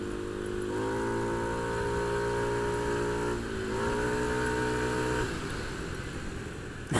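Motorcycle engine on a ride through Bali, pulling up to high revs in steady sustained pulls, with the pitch rising, easing off and climbing again, heard close and loud with wind noise and no talk.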